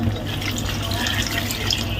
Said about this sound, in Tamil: நண்டு மூங்குற அளவுக்கு தண்ணி ஊற்றிக்கலாம்